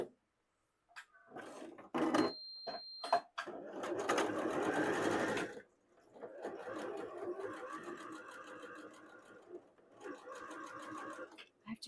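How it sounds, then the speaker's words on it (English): A sewing machine stitches quilt pieces together with a quarter-inch seam, running slowly in a steady mechanical whir with a few pauses, near and fairly loud, while a person talks over part of it. "I have to go super slow because the sewing machine makes the camera shake."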